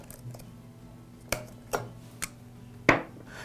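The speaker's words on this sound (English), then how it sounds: "cut the hose with either a knife or, in this case, a pair of heavy-duty wire cutters" Heavy-duty wire cutters snipping through an air compressor hose, four sharp separate clicks and snaps spaced about half a second apart over quiet background hum.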